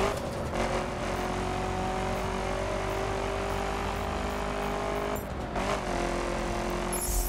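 In the racing video game The Crew, a car's engine roars steadily as it accelerates, a sustained, loud drone that dips briefly near the end before surging again.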